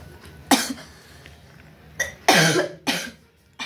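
A sick pet parrot coughs in a quiet room, four short, harsh, breathy hacks spaced irregularly, close and fairly loud, with no talking.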